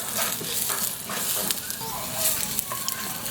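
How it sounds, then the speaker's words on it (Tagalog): Ginger sautéing in a pan for sinigang na isda, giving a continuous close sizzle with a few soft stirring scrapes, moderately loud and steady throughout. "yung luya dapat medyo gisado yan na mga isang minuto hanggang 90 seconds para lumabas talaga ang lasa niya"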